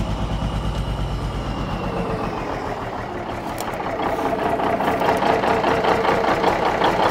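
A 1981 Kenworth semi truck's diesel engine idles loud and close with a steady low rumble and rapid chugging pulses that waver and roughen as if about to stall, with no talk over it.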